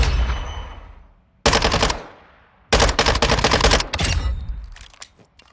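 A Mini Bak submachine gun in Modern Warfare 2 fires full auto in two loud sustained bursts with a shorter one before, each ending in a fading echoing tail.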